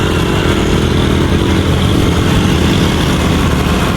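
A motorcycle engine labors up a steep rural road, a loud, close, continuous buzzing drone that stays steady and strained throughout with road and wind rumble underneath.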